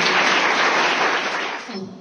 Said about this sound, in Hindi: एक बार जोरदार तालियां हमारे सब प्रतिभा के लिए।